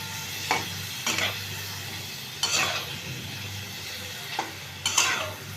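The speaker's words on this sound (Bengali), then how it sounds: "আমি এটাকেই ভালো করে কষিয়ে নেব।" A spice mixture sizzles gently while being sautéed in a pan, with several distinct stirring scrapes spaced a second or so apart, fairly quiet and close, with no voices.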